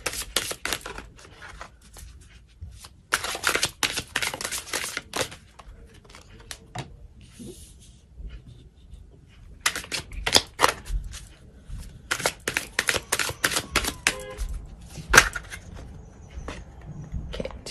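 Tarot cards are shuffled up close in repeated bursts of crisp riffling and flicking, rapid clustered snaps separated by short quiet pauses, with barely any talk.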